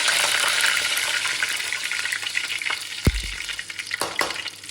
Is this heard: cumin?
yes